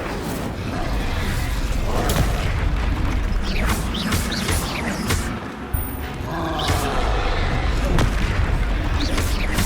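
Incendio and Confringo spells are cast in combat in Hogwarts Legacy, bursting in loud booms and blasts over a dense, continuous battle din. Effects repeat throughout.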